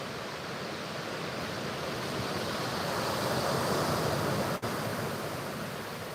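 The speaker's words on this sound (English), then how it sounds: "Apart from waves getting dangerously close." Sea waves breaking on a shingle beach and dragging the stones, heard as a continuous broad rushing wash that swells slightly near the middle, with some wind on the microphone.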